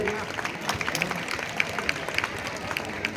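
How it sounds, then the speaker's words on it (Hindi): Guests at an Independence Day gathering are welcomed with a continuous round of crowd clapping, moderately loud with sharp individual claps standing out and voices faintly underneath. "जोरदार तालियों से इस्तेकबाल पेश करते हैं"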